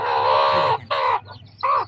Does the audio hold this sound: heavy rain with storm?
no